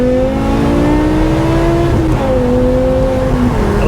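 BMW M6 fitted with a V10 engine and F1-style exhaust, revving loud and close, its engine note rising in steady sweeps with a brief dip and pickup partway through, alone without talk.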